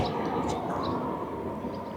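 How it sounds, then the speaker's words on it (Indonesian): A broad, steady rumble of a high-speed ICE train rushing past near Ladenburg, fairly loud and continuous, with a few faint high squeals. "Ada kereta, bunyi kereta."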